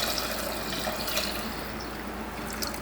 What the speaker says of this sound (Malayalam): ഇതിലേക്ക് 4 കപ്പ് വെള്ളം ചേർക്കാം.